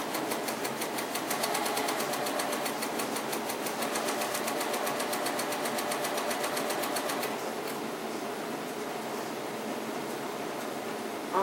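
A sewing machine runs steadily, stitching an arc seam on a fabric giant dahlia, its rapid needle chatter loud and close for most of the clip before easing off near the end, with no talk.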